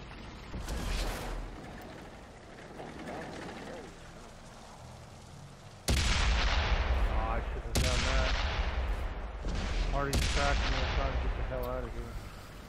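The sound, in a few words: tank cannon fire in the video game World of Tanks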